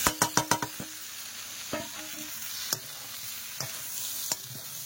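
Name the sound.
stir-frying spices with raw jackfruit and potato in a pan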